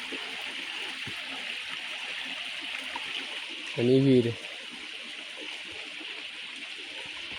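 Water flowing steadily in a Konkan village stream, a continuous broadband rush heard throughout, with a short spoken phrase briefly over it.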